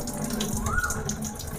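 Water running steadily from a kitchen tap while a surface is washed, a continuous close splashing hiss with no talking.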